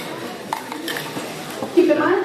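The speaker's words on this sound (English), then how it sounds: "We're going to add ice to the top." Ice clinks and rattles as it is scooped into a cocktail glass, a few light clatters and then a brighter tumble near the end, set against a busy room with a voice speaking.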